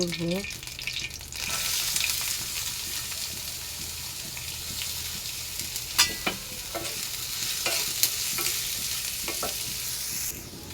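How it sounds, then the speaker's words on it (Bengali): Onions fry in a pan with a steady, close sizzle, punctuated by occasional clinks and scrapes of a utensil stirring through them. "এটার মধ্যে পেঁয়াজ ভাজি"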